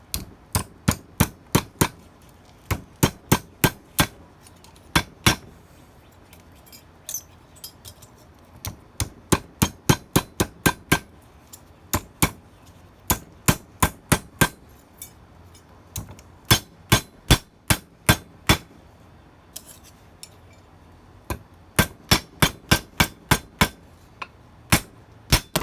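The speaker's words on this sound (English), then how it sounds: "we'll hammer it out flat real quick" Hammer blows flattening an exhaust pipe for a racing tractor, heard as sharp metallic strikes in quick bursts of several hits with brief pauses between groups, close and loud, with no talk.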